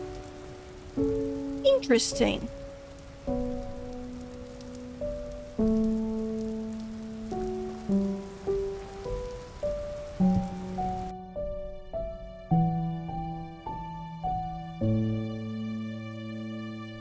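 Steady rain pattering down in the Vintage Story survival game, a soft hiss under a melodic music track that cuts off about two-thirds through, with a brief spoken word.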